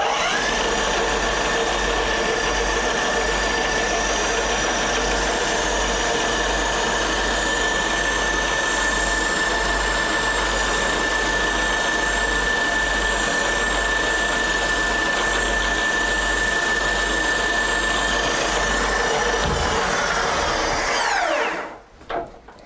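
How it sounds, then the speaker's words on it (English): A drill press whines continuously and loudly with a steady high tone as a 2mm drill bit bores a small pilot hole, then spins down and stops near the end. "I'm going to pre-drill the second hole with a 2mm drill"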